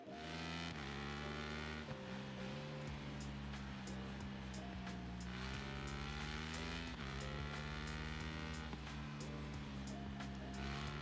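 A superbike roars through a race in the motorcycle game RIDE 6, its engine whining steadily with rising and falling pitch as gears shift, loud and continuous.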